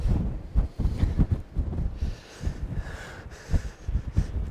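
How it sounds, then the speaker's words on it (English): Strong gusty wind buffets the microphone outdoors at a cold wild camp in the Southern Uplands, rumbling in uneven low bursts with a faint airy roar behind. "it's still very windy out here"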